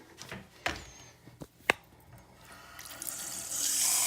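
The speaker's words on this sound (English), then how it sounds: "So I'm going to mix some water in this, which it says to do." Water pours into a container to mix Ramabio limewash for stacked stone, starting with scattered clunks and splashes and building into a steady rushing fill toward the end.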